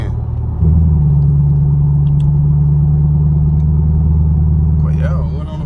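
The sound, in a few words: straight-piped Chevrolet Camaro SS engine while driving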